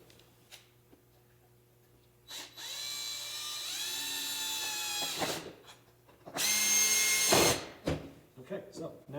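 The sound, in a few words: power drill driving screws into a wooden box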